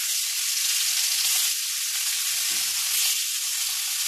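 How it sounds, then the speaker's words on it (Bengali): Fish sizzles and crackles as it fries in hot oil in a home kitchen, a steady bright hiss with occasional soft stirring sounds and no talk. "তেলটাও আমার গরম হয়ে গেছে। এবার আমি মাছগুলো দিয়ে দেব।"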